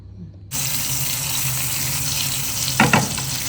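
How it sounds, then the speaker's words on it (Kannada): Fish fillets, dipped and coated in spice powder, sizzle steadily on a tawa over a low flame, a broad close hiss starting abruptly after a brief quiet moment and running on evenly with a short crackling burst near the end. "ಸ್ವಲ್ಪ ಸಿಮ್ಮಲ್ಲಿ ಇಟ್ಕೊಂಡೇ ಫ್ರೈ ಮಾಡಬೇಕು"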